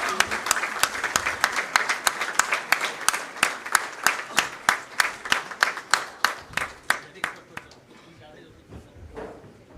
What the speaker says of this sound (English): once again with a round of applause